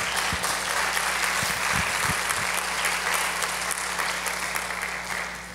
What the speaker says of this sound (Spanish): Denle un aplauso, man